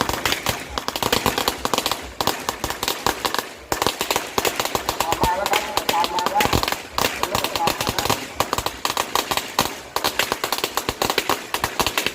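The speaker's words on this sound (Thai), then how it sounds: "ตรงนี้ก็เป็นสถานที่ จุดประทัดนะครับ" Strings of firecrackers crackle at a Thai temple, Wat Sawang Arom in Nakhon Pathom, as rapid dense bursts of sharp pops run continuously for several seconds with only brief pauses, loud and close.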